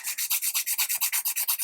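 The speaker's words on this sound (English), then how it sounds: "get in with your sanding stick or your emery board if you're a beginner" A sanding stick or emery board rubs back and forth over a flat plastic part from an Airfix 1/72 lifeboat starter kit, giving a close, steady run of about a dozen even, rhythmic scratchy strokes with no talk.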